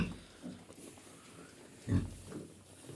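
Low grunts from pigs, including a sow and piglets, a few soft snorts scattered through, with one louder grunt near the middle, moderately close in a quiet barn.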